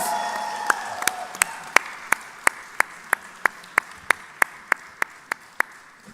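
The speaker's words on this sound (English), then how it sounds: "So big round of applause and big congratulations." A single person claps steadily at an evenly spaced, slightly quickening rhythm, about sixteen crisp, close claps over a faint background murmur at a fan meetup event.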